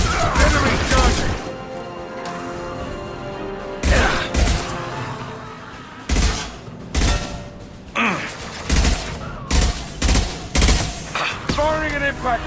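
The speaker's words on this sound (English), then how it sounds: "Firing an impact shot!" Weapon fire in the video game Mass Effect 2, including the impact shot: repeated loud bursts of shots and crashing impacts arrive in irregular clusters over a continuous battle din.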